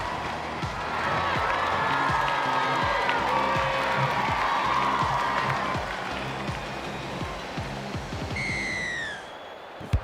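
A stadium crowd roars and applauds after a try in a Canberra Raiders versus Brisbane Broncos rugby league video game match, a loud sustained cheer that fades slightly near the end, with a brief whistle-like tone.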